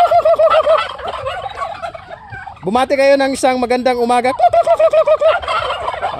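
Pet turkeys gobble loudly and close by, one long rattling gobble in the middle with shorter repeated calls before and after, while a person speaks at the start.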